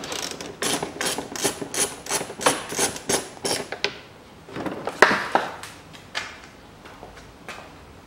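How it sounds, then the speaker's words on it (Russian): A self-tapping screw is turned out of the bumper of a 2004 Nissan March, giving a quick run of sharp ratcheting clicks and taps, close and steady, which thin out into a few scattered knocks. "Придерживаем бампер и откручиваем этот саморез."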